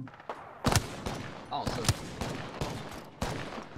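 Sharp gunshots ring out irregularly in the battle royale shooter Apex Legends, with several separate loud reports and short bursts spread across a few seconds over faint background sound.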